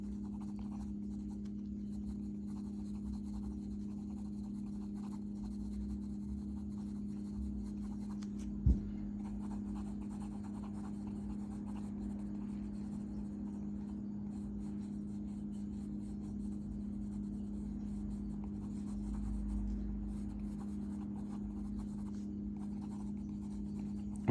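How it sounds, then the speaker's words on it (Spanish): A B2 graphite pencil shades on paper while drawing an upper canine tooth, making a faint, steady scratching that runs quietly over a low background hum, with one small tap partway through. "el lápiz B2 lo dejé en la U, que es el que me sirve más para el sombreado."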